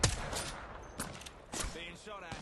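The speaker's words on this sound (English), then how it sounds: "Being shot at." Apex Legends gunfire comes in a few separate bursts of shots at moderate distance, with quieter gaps between them.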